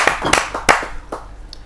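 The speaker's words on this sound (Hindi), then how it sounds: "जोरदार तालियों से आमंत्रित करते हैं" A few scattered hand claps from an audience at a Hindi-Urdu poetry gathering, brief and uneven, fading quickly after a couple of sharper claps.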